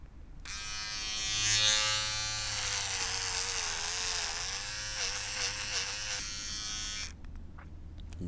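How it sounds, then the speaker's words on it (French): Electric clippers shave a head outdoors, a close, continuous buzzing drone lasting several seconds whose pitch wavers slightly as the blades move, then cuts off. "Me raser la tête dehors, c'est pas la même chose"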